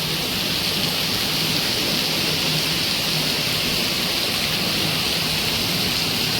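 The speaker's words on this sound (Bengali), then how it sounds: "অনেক বৃষ্টি হচ্ছে, বাইরের পরিবেশটা আসলে রোমান্টিক হয়ে গেছে।" Heavy rain pours steadily over a village during a Bangladesh storm, a dense and loud unbroken hiss with no gaps.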